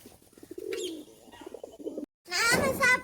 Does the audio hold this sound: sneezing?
no